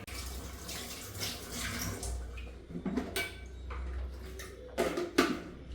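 Water poured in a small amount into mutton curry cooking with cardamom, cinnamon and clove masala, a soft splashing trickle with a few sharper clinks of a vessel near the end, fairly quiet and close.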